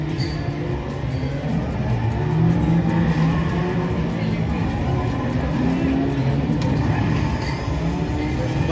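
A racing car engine roars and revs continuously in an arcade racing game at a mall game zone, loud and close, over busy arcade background noise.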